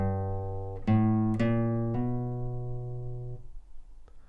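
Guitar plays a short easy country lick, a few plucked notes including a hammer-on, each ringing out and fading, close and solo with no talking.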